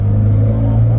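A Ferrari 430 Scuderia with a straight-pipe exhaust, its engine holding a loud, steady, raw drone heard from close by, rumbling continuously throughout a brief moment.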